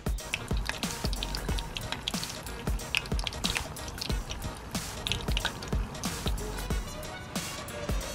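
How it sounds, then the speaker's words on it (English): Vietnamese cha gio spring rolls deep frying in hot canola or vegetable oil, a dense steady crackle of popping bubbles and spitting drips that runs continuously at close range with no talk. "When the oil is hot enough, time to give your rolls a good oil bath."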